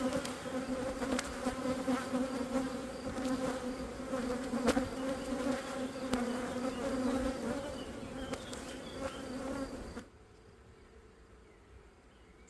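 Honey bees buzz steadily around an open beehive during a hive split, a dense, continuous drone up close with small clicks, cutting off abruptly near the end into quiet.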